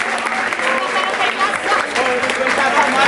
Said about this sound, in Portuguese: Yeah, palmas, palmas, palmas.